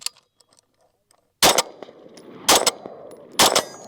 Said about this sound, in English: I'm gonna do like 3 rounds on steel with this and then the Sig.